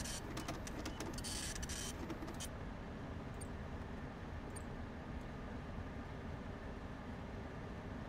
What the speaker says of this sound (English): It's like a rotary printer.